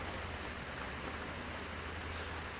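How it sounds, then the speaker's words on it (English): Steady rain falls during a summer monsoon in New Zealand, an even, dense hiss of drops that holds constant for the whole stretch with no voices over it. "It just rains all the fucking time."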